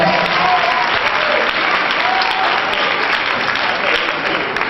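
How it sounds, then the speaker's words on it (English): Audience gives a full round of applause at a community event, a dense, continuous wash of clapping at steady loudness from start to finish. "Let's give him a round of applause."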